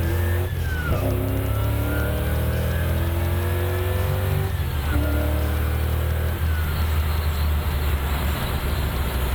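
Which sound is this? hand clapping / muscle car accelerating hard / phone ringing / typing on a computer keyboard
muscle car accelerating hard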